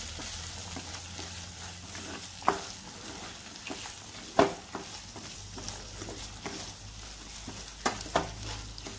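Onion, green chilli and curry leaves fry in a pan on low heat, giving a soft continuous sizzle as a spoon stirs, with a few sharp scraping knocks against the pan.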